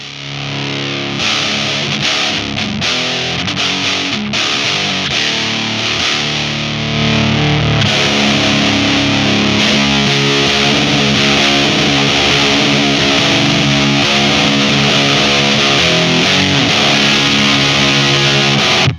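Heavy, saturated electric guitar through an Ugly Amps Bigfoot distortion pedal into a Plexi amp: sustained chords and riffs, loud and continuous, getting thicker partway through, with no talking.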